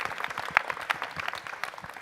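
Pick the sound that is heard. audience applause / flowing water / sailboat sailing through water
audience applause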